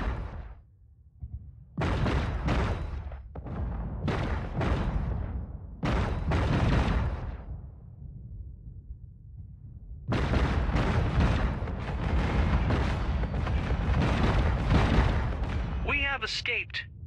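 Space fleet battle in the game Infinite Lagrange, heavy booming explosions and sustained rumbling bursts rolling in several long waves, loud and close, with a synthetic announcer voice speaking near the end.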